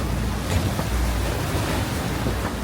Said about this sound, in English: 40 to 50 knots of wind.